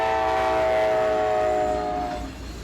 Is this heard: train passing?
yes